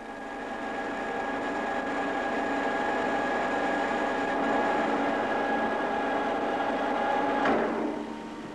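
A lathe bores out a hole in a workpiece held in the chuck, enlarging it slightly, producing a steady, loud mechanical whir with a cutting hiss that runs evenly throughout and fades at the end, with no talking.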